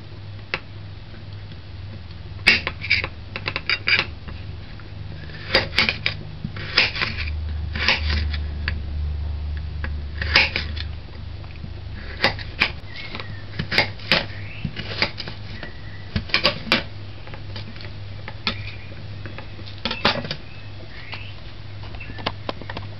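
A knife chops potatoes into strips for homemade french fries, giving irregular sharp taps on a cutting board, some in quick clusters, with a steady low hum beneath.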